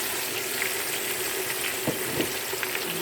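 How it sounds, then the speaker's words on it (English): Blended tomatoes fry in a pot for egusi soup, giving a continuous close sizzle and bubble that is broken by a few soft stirring scrapes, with no talk. "I'm going to allow this to fry for some time."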